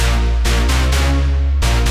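Thick brass-like festival house synth patch run through a multi-band compressor, limiter and reverb, playing pulsing chord stabs in two phrases with a brief gap, full and loud with no voices.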